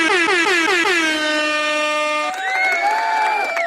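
A loud air horn blares as a sound effect, first in several quick rhythmic blasts and then in one long sustained blare, followed by a shorter higher-pitched horn tone, with faint crowd cheering behind it.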